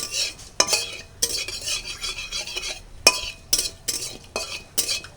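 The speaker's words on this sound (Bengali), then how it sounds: "ফোড়নটাকে একটু ভালো করে ভেজে নিতে হবে" Spices tempering in hot oil for a raw mango chutney, with repeated scraping stirs of a metal spoon against the pan over a faint sizzle, in irregular bursts.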